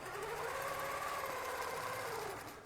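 A longarm quilting machine stitching steadily in one continuous run with a rising and falling motor whine, fairly faint and close, with no talking.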